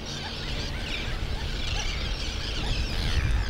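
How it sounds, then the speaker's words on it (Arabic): A dense chorus of many seabirds squawking and calling at once on an island nesting colony, a steady noisy clamor with a low rumble underneath. "تشوف أنت الطيور كيف أنها قاعد تحاول تحمي بيضها"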